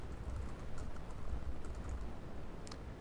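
Steady keyboard typing on a computer, a continuous patter of soft key clicks at close range with a few sharper taps, no voices.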